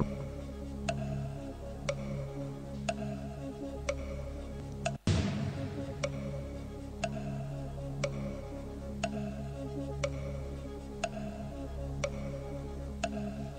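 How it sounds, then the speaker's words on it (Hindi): A clock ticks steadily, about one tick per second, with sharp, clear clicks over a quiet room hum. Around the middle a single loud thump or knock breaks the pattern, then the ticking continues. No one speaks. "ये जब हमारी घड़ी टक टक करती हुई चलती है"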